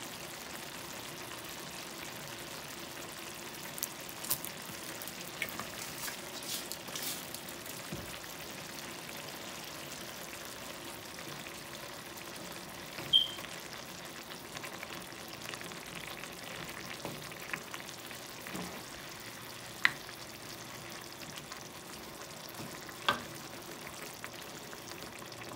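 Sweet Baby Ray's barbecue sauce simmering in a pan for jerk chicken, a quiet, steady bubbling hiss with occasional tiny pops, no one talking.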